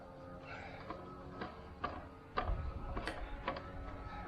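Delta miter saw handle being lowered, giving a series of faint mechanical clicks and ratcheting knocks spaced irregularly across the clip, with a slightly firmer clunk midway, close by and without talk.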